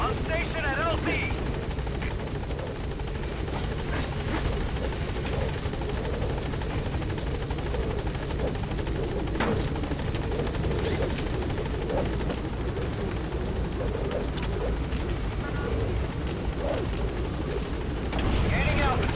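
The Pequod helicopter from Metal Gear Solid V hovers at a landing zone, its rotor a loud continuous drone throughout, with radio voices and scattered thumps over it.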